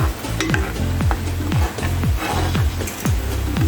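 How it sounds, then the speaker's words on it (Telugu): Grated coconut being stirred into sugar syrup for coconut laddu, a spoon scraping the pan in repeated strokes about every half second over a soft bubbling sizzle, close and steady. "కదుపుతూ ఉండలు కట్టకుండా నీట్గా పాకంలో కలపాలి."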